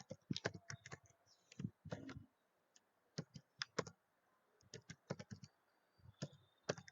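Fast keystrokes on a computer keyboard as a C program is typed in, clicking in uneven bursts with brief pauses, close and fairly quiet, with no talk.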